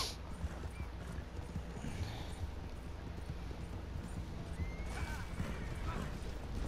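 Horse hooves galloping in Red Dead Redemption 2, a steady clip-clop running under dense game action noise with a brief whinny, continuous and moderately loud throughout.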